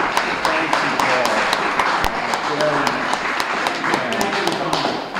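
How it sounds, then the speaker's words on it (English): A meeting audience at a climate resilience gathering gives a sustained round of applause, dense clapping with sharp individual hand claps standing out, while people talk over it. "I think we all owe him a round of applause for what he's done"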